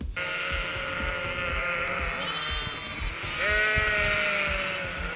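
Sheep bleat repeatedly, close and loud, with drawn-out wavering calls over a background of soft rhythmic thumping and rustle.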